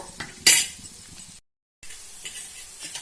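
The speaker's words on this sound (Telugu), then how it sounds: "స్టవ్ అయితే చిన్నగా పెట్టేసుకొని మంచిగా ఫ్రై చేసుకోవాలన్నమాట" Bitter gourd pieces frying on low heat in a pan, a crackling sizzle opening with a sharp metallic scrape, then a brief dead gap before the hissing resumes.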